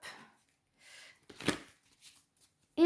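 Tarot cards are shuffled and laid out in a series of soft, brief papery flicks and taps separated by quiet gaps, quiet and close, ending with a sharper tap.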